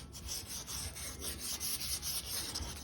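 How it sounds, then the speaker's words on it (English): Sandpaper is rubbed by hand across the painted keyboard base of a Moog Minimoog synthesizer in light, rhythmic back-and-forth strokes, about a dozen soft scratchy passes heard up close and quiet. "And then I'll just sand right here."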